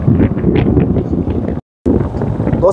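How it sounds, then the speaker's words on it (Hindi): Strong cold wind buffets the microphone along a road on the way to a crocodile point, a loud continuous rumbling roar that briefly cuts out before resuming. "देखिए दोस्तों रोड पर भी तो ठंडी ठंडी हवाएं चल रही है दोस्तों"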